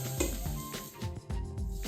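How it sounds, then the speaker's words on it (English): Steady frying sizzle of lemon zest in a hot pan with rice, with a few soft stirring scrapes and clinks over it. "You can hear it start to sizzle, that's great."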